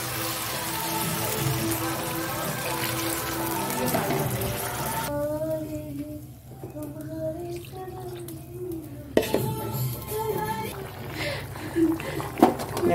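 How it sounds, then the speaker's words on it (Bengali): Water pours into a pan of simmering fish curry with greens, a steady splashing stream that then gives way to bubbling and stirring sounds, while someone talks over it. "জল দিয়ে দিচ্ছি।"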